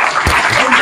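An audience claps at a Hindi Diwas celebration in a school campus, a short burst of dense, loud applause.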